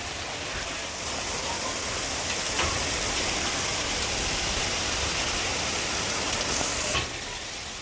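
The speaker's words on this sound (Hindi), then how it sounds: "मुस्तफ़ा अभी बारिश एंजॉय कर रहा है।" Heavy rain pours steadily over Bahria Town, a dense, unbroken hiss of downpour that stays loud and even throughout, with no talk over it.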